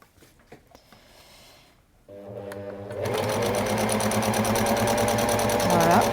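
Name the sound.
sewing machine sewing a straight stitch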